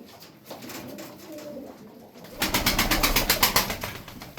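Pigeons coo softly at first, then a louder burst of fluttering and rhythmic cooing takes over in the second half, close by.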